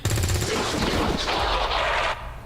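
Rapid bursts of gunfire in XCOM 2 crackle loudly and close for about two seconds, a fast rattling volley with a heavy low thump at the start, then cut off abruptly.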